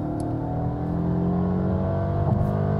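A Mercedes GLA 250 four-cylinder engine in sport mode accelerates from inside the cabin, a steady, rising engine drone with tyre and wind hum, no talking.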